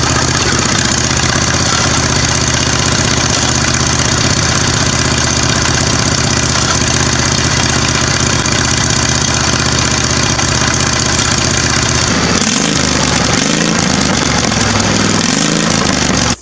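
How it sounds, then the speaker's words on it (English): A lawn mower engine fitted with a zero-turn mower exhaust, mounted on a homemade boat as an outboard motor, runs loudly and steadily at close range, then its note drops and wavers near the end. "That's a combination of 0 turn exhaust with Major Dan engine."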